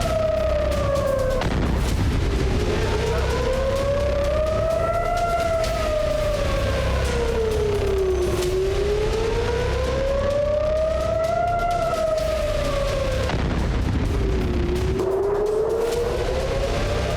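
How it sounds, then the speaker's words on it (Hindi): Air raid sirens wail over Israeli cities, including Tel Aviv, during a Houthi missile attack at night, a loud sustained tone slowly rising and falling in long cycles with a rumbling background and no talking. "शनिवार की रात इजराइल की राजधानी तेल अवीव समेत कई शहर सायरनों की आवाज से गूंजते रहे"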